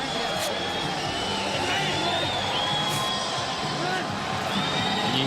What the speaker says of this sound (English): you hear the jeers and whistles from the crowd